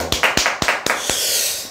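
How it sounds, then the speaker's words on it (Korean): Short burst of audience applause during a sales coaching lecture, six or seven distinct sharp claps in quick succession that then blend into a soft sustained clatter of many hands, fairly close and without any voices over it. "네, 박수."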